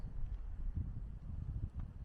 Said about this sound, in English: And certainly windy up here